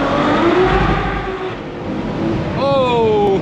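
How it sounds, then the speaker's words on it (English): A Ferrari 812 Superfast V12 pulls hard in second gear on a German autobahn, a loud, sustained engine roar that climbs in pitch as it accelerates, with a brief voice over the top. "Now that is a V12 for you."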